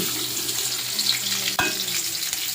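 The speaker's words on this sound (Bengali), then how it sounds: "এখন তেল দিয়ে দিলাম তেলটা গরম হোক এখন দিয়ে দিলাম পেঁয়াজ আর রসুন" Onion and garlic fry in hot oil, a close, steady sizzle with crackling spatter and one sharp clink of a utensil partway through.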